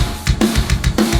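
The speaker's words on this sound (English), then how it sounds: "So now we have the first 2 bars like so," A programmed drum pattern with only kick and snare plays back, with steady low kick thumps alternating with sharp snare hits in a regular even rhythm, loud and close with no voice.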